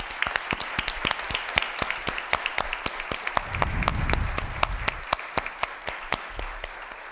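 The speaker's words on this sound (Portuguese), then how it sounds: "eu queria pedir uma salva de palmas essencial para minha mãe" An audience at a formal solemn session claps for the speaker's mother, sharp individual claps ringing out in a loose rhythm, swelling into a fuller burst in the middle before thinning back to scattered hands.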